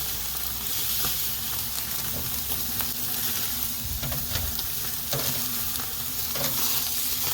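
A thin steak sears on a Chud Box grill, giving a steady, loud sizzle with a constant hiss and light crackle throughout, close up and without talk.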